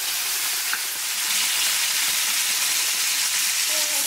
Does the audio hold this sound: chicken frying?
yes